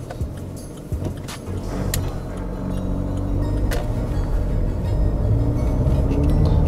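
A Skoda Rapid diesel with a 7-speed DSG gearbox drives in normal mode, its engine and road rumble rising steadily from inside the cabin, with a few brief clicks and knocks early on.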